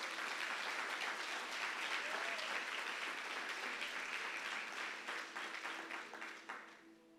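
Applause from a congregation in a church: dense, even clapping from a large crowd that holds steady for several seconds, then thins out and fades toward the end.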